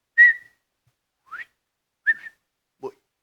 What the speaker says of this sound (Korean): 우리가 휘파람 불 때도 신호가 있잖아요